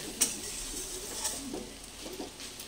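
Papaya curry frying in a pan and stirred now and then, a soft sizzle with a few scraping spoon strokes and light clinks, close and fairly quiet.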